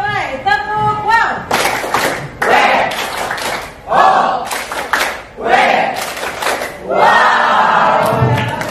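A classroom of students at a Jakarta madrasah performs a clapping chant, bursts of rhythmic claps mixed with loud group shouting and chanted voices, pausing between rounds.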